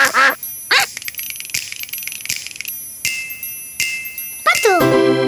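A cartoon duck quacks repeatedly in short nasal bursts alongside bright chimes and jingly music from an animated children's show, loud and close with no talk over it.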